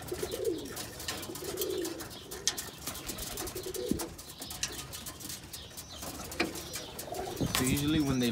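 Birmingham Roller pigeons coo in repeated low, throaty phrases at close range as they settle after flying and are fed, with a few chirps and brief wing sounds, while someone talks over them.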